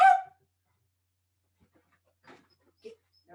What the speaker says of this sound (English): Excuse the noisy dog.